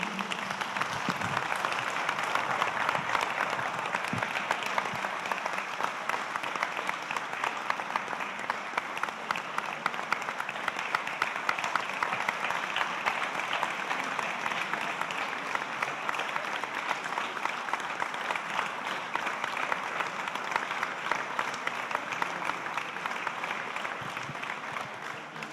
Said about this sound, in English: Vi ringrazio di cuore per la vostra gentilezza di essersi alzati e di averlo applaudito